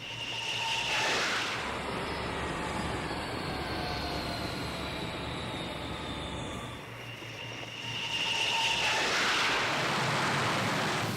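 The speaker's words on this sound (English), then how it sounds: "American jets bombed 2 naval bases." American jet aircraft roar loudly during airstrikes, a sustained engine rush with a whining tone that swells near the start and again at the end as the jets pass, with no speech.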